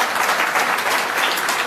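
A crowd of traders at a political meeting in Punjab claps together in dense, sustained applause, fairly close and loud, with no voice over it.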